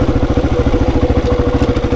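A 26-year-old Honda XR400 single-cylinder motorcycle ridden on an enduro singletrack loop, its engine thumping in a fast, even, loud pulse held steady on the gas, close up.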